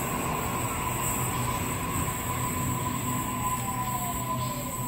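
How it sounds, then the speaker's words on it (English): A Sydney Waratah Series 1 electric train, set A42, pulls in at platform 1 of Normanhurst station, a steady loud rumble of wheels and motors with a drawn-out whining tone sliding downward as it slows, no voices over it. "A42 has arrived here on platform 1."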